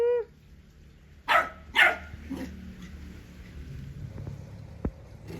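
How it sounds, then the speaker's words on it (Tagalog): A dog barks in a backyard among rambutan trees: two sharp, loud barks close together, then a softer third, with quiet yard ambience afterward. "Aso."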